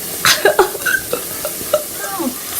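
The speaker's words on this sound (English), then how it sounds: "Sizzle, sizzle, sizzle. These are gonna be delicious and brown." Onions sizzle in a hot frying pan for keema, with scraping and stirring sounds, intermittent clatters over a soft hiss.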